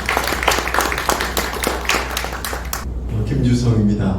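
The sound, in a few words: audience applause welcoming a speaker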